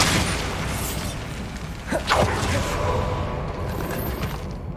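A Bombarda blasting spell going off in Hogwarts Legacy, a broad booming explosion with a sharp crackling burst in the middle, heard over steady game ambience and music.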